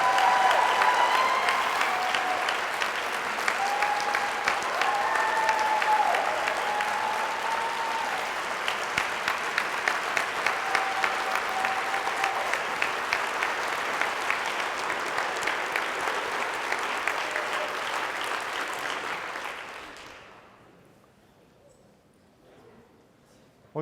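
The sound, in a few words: conference audience applauding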